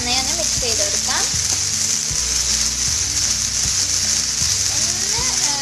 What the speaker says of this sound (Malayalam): നന്നായി ഫ്രൈ ചെയ്തെടുക്കാം.